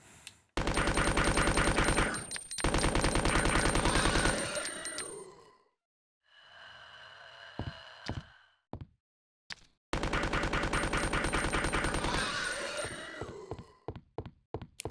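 Submachine gun fire in Resident Evil 2, loud and close: two long sustained bursts of rapid automatic shots, split by a quieter gap holding a few single clicks and impacts.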